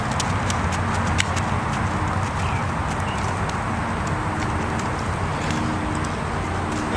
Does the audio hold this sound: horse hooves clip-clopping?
yes